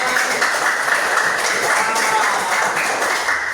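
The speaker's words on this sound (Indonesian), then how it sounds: "Oke, tepuk tangan." Classroom applause from students after a group presentation, a steady dense patter of many hands clapping evenly throughout, moderately loud with no pauses.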